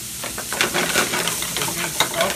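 Okra, red and green peppers, green beans and onions fry in hot oil with a steady, close sizzle. Stirring scrapes and clinks come through now and then.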